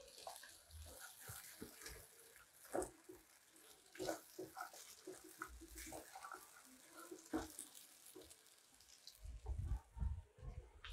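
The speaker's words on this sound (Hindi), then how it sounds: "देखिए आपको ऐसे पानी डालना है इसमें" Water poured into a cooking pot during a salted, reddish home-cooked dish, giving a steady splashing rush with louder bursts and clatter toward the end, close by and without talk.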